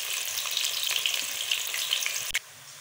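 Chopped onion fries in hot ghee with a bright, dense, close sizzle full of tiny crackles, then a brief clatter just before the sound abruptly drops to quiet.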